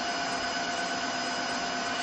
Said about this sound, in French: l'aspirateur, avec son nouveau système de brosse, permet de bien nettoyer sur le côté